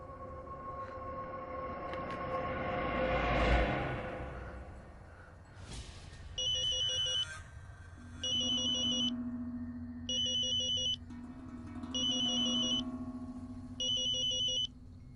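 A telephone rings in a quiet room, sounding as five evenly spaced electronic ring bursts with short pauses between them over a low steady hum, after a brief whooshing swell.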